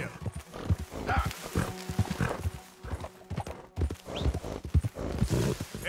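A horse gallops in Red Dead Redemption 2, with rapid rhythmic hoofbeats close by, a brief whinny, and a voice urging it on over the clatter.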